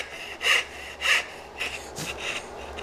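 A hand saw cuts wooden dovetails in a few rhythmic rasping strokes, each a short push that stands out clearly, then lighter strokes near the end, close and alone.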